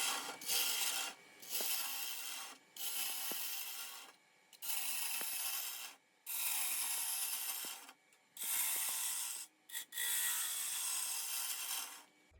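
Wet wood bowl spinning on a wood lathe, the gouge scraping in repeated broadband cutting passes of about a second each, separated by brief pauses, close and loud with no talk.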